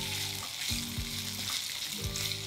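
Boiled potato pieces sautéing in a pan, with a steady soft sizzle broken by several low scraping stirs at an uneven rhythm, close and quiet.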